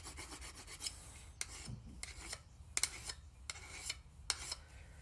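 A hand file rasps along the beveled edge of a tool blade in a series of quiet, evenly spaced strokes separated by short pauses, with no talking.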